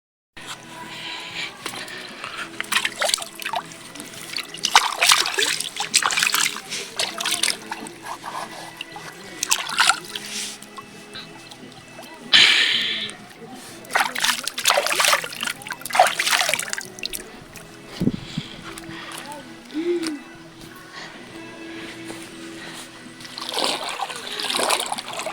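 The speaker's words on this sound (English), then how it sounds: "So let's first wash a little bit my hands in the river" Hands being washed in a hillside river, close splashing and trickling water in repeated bursts, with steady flowing water underneath throughout.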